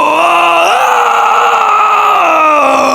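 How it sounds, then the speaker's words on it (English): A man sustains a loud, gritty vocal scream for about three seconds, its rough pitch shifting partway through, delivered alone and close to the mic. "And that is my main scream."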